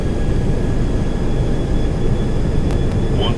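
Airbus A319 jet engines hum on the runway in the X-Plane 11 flight simulator, a loud, steady broadband roar with faint whining tones and a couple of brief clicks near the end.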